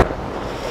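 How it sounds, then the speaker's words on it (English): A single deep boom from avalanche control explosions on a ski hill at Marmot Basin in Jasper National Park, Canadian Rockies. It hits loud at once, then a rumbling tail fades out over under a second. "if you hear a little booming and banging in the background, they're doing a little bit of avalanche control today"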